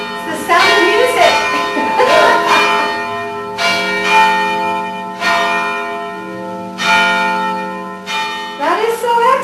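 A pair of church bells in Richmond, rung together by pulling ropes, gives loud overlapping clangs at a steady pace with long humming decays, while voices chatter faintly underneath.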